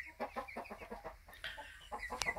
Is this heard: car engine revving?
no